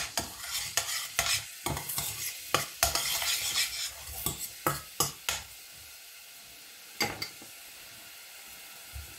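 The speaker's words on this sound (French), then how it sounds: "Je vais d'abord faire suer mes échalotes." Shallots sweating in a pan for a mushroom sauce, a low sizzle under a series of sharp scraping strokes from a utensil being stirred, loud at first, then thinning to a faint hiss with one last stir near the end.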